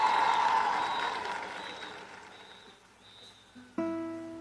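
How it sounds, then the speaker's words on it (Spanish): Audience applause at El Potrillo's live concert at the Suena Caracas 2014 music festival, a loud dense clatter of many hands that gradually fades before the band's instruments come in. "¡Fuerte el aplauso, por favor!"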